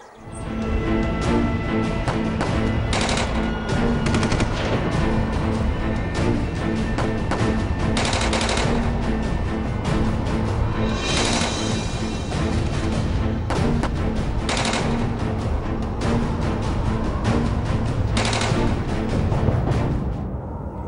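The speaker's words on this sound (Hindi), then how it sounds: "अब्बू, गोलीबारी रुक गई है।" Machine gun bursts and rifle fire in a drama scene, loud rapid volleys coming in repeated waves over a sustained background of continuous shooting, with no pauses of silence.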